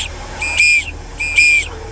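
Two shrill, steady whistle blasts, each about half a second, blown by parade volunteers in white shirts wearing orange whistles, sounding close and loud over faint street noise.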